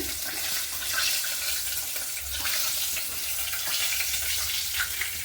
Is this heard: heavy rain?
no